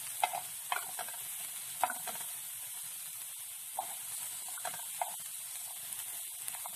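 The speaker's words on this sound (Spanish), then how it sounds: "Vamos a sofreír muy bien." Garlic, onion and other ingredients sautéing in leftover beefsteak fat for Mexican-style steaks, a soft steady sizzle with a few brief stirring scrapes spread through the quiet background.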